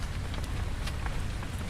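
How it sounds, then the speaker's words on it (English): Rain falls steadily outdoors on a rainy day with an umbrella up, a constant close patter with scattered heavier drops tapping on the surface. "It's raining."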